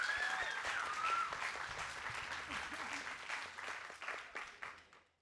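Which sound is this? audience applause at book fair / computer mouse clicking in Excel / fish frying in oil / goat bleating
audience applause at book fair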